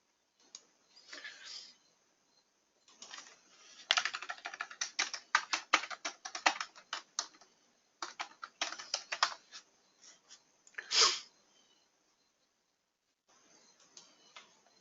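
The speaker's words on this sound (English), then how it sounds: "Boy, I can't type." Bursts of typing on a computer keyboard, quick clustered clicks with pauses between runs, close and fairly clear with no talking.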